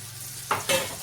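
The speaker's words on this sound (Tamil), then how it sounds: "இந்த வெங்காயம் வந்து நம்ம அழகாக கோல்டன் கலரில் வதக்கணும்" Onions for mutton biryani fry toward golden, a faint sizzle in the background, then two quick, louder scrapes of stirring close by in under a second.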